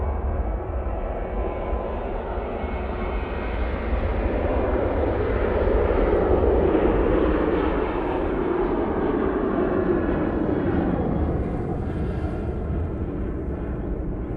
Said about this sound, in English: Ryanair now on the roll, using the 737-800 for this flight